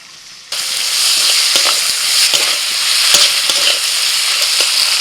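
Chopped tomato hits a pan of fried onions and sizzles loudly and steadily, with scraping stirs clicking through the frying, close up and with no voices.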